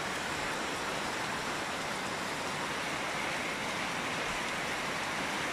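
Hail pouring down steadily for several minutes on a June day in Çağlarca, Turkey, a dense continuous hiss and patter that stays constant throughout, with no voices.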